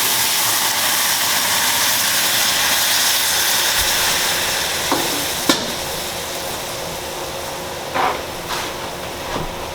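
A pan on a stove over high heat hisses with a steady, loud broadband sizzle that fades slightly, with a few sharp clicks and knocks near the end; no one speaks.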